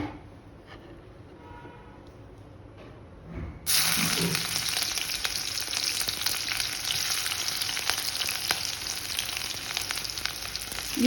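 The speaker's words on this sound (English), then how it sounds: "Now we are going to add the chilies and the onion and fry it a little bit till translucent." Chillies and onion dropped into smoking coconut oil burst into a loud, steady sizzle after a few quiet seconds, the hiss of frying continuing close and unbroken to the end.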